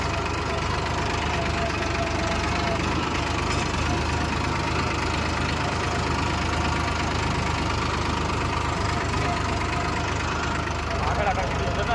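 A tractor engine runs steadily and close by for the whole stretch, a continuous knocking diesel drone with a few faint voices beneath it.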